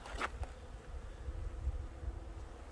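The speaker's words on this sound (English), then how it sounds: "That's kind of a black looking bee." Bees buzz around a DIY bucket feeder, a faint close hum with a brief louder buzz as one flies near, then a soft steady drone.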